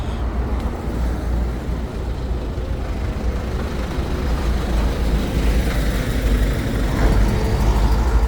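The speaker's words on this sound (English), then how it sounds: "here I'm by all the noisy trucks again" Heavy trucks rumble steadily past on a busy road, a constant loud low-pitched roar of engines and tires that swells slightly toward the end, with no voices.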